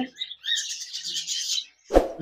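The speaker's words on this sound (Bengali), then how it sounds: "এখানে দেখতে পাচ্ছেন অনেকগুলি জাপানিজ বাজরিকার পাখি রয়েছে" Japanese budgerigars in a cage chirping, a bright continuous twittering of several birds close by, ending with a short sharp knock.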